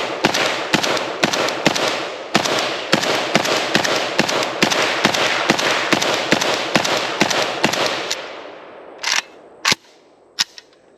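Rapid string of sharp, loud gunshots from a contract-style firearm, fired in quick succession for about eight seconds, then a few spaced single shots at the end, with echoing tails and no talking.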